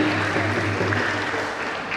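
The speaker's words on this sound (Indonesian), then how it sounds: "Kita berikan tepuk tangan buat Amang dan Ina." Members of a Batak family gathering applaud together during a Nababan clan New Year celebration, a steady wash of clapping that stays fairly loud throughout, with a low musical hum and faint voices underneath.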